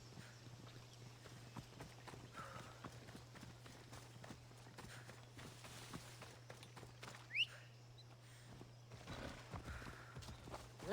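Horse hooves clip-clop steadily at a moderate pace in the video game Assassin's Creed, a continuous rhythmic trot over a low steady hum with faint ambient game sounds.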